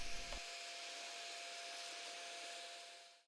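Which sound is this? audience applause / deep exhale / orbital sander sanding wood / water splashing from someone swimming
orbital sander sanding wood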